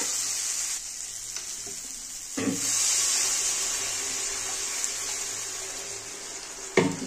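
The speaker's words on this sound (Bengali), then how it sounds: "এবার আমি একটু জল দিয়ে দেব।" Water poured into a pan of simmering potato curry with fish roe, a broad hissing sizzle swelling suddenly and running steadily for several seconds before easing, with a sharp clatter near the end.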